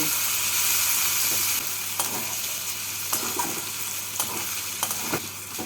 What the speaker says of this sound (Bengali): টমেটো কুচিটা নরম না হওয়া পর্যন্ত ভেজে নিচ্ছি